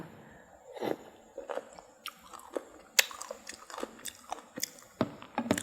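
Close, crisp crunching and chewing of spicy Thai pounded cucumber salad with pork sausage, with bites and crunches coming in an irregular series of sharp bursts and no talking.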